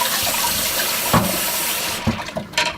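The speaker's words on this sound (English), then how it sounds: "Just rinsing the top off." Water runs steadily from a tap while the top of a container is rinsed, a continuous close splashing flow with a brief clatter partway through and a few knocks near the end.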